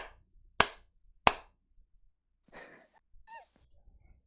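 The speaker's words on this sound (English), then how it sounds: "Everybody clap together now. Let's all clap together." Two sharp, close hand claps about half a second apart, picked up on a voice call among football fans, followed by quiet breathy and wheezy noises and a brief voiced sound.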